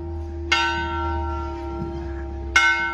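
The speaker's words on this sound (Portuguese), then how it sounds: "E ao som do sino da capela de 1743" Two clear strikes of the bell of a 1743 chapel in Santo Aleixo, about two seconds apart, each ringing out and lingering over a low steady hum.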